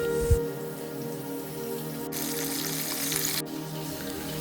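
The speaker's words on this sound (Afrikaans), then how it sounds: "Maak so 3 koppies olie warm in 'n pan en braai jou hoender tot dit gaar en goudbruin is." Steady broadband hiss of chicken frying in about three cups of hot oil in a pan, continuous throughout, growing brighter and louder in the middle before settling back.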